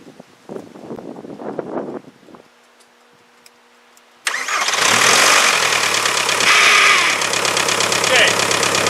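A cold turbo diesel car engine cranks briefly, then catches and roars into a loud, steady run near the listener, preceded by a few moments of quiet; voices talk beforehand.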